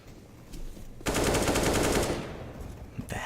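A burst of rapid automatic gunfire rings out in the video game CS:GO, loud and sustained for about a second, then fades.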